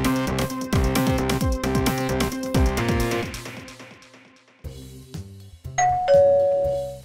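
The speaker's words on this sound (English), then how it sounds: "Oh, it's the doorbell." A doorbell chimes repeatedly in a rapid ringing sequence, fading out, then a short pause before a final clear ding-dong tone rings out.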